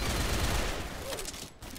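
Video game gunfire sounds as a dense, continuous burst of rapid shots, loud and close, then thins out and tails off near the end.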